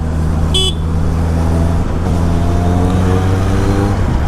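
Heavy road traffic around a Honda CBR 650R rider: a steady low engine drone runs throughout, a short car horn toots near the start, and a rising engine tone builds toward the end, with no talk.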